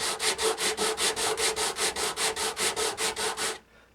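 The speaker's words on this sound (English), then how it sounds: "So then I take my sandpaper." Sandpaper worked by hand over a guitar fret during a refret, a close, steady run of about fifteen rhythmic rasping strokes that ends abruptly, with no talking.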